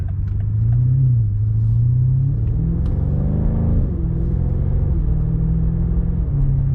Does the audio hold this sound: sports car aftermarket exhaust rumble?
yes